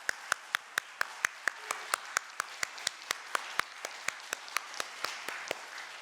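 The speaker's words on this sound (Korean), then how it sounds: "우리 다음 세대 친구들을 박수로 또 마음껏 축복해 주시면 좋겠습니다." Church congregation applause at a worship service, a steady rhythmic unison clapping with sharp evenly spaced claps over a soft background of scattered clapping.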